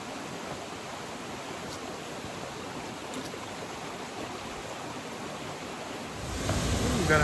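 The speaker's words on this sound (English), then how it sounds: "We've got a nice waterfall here." Steady broadband rushing water from a waterfall in Baxter State Park, Maine, continuous and fairly even, swelling louder near the end.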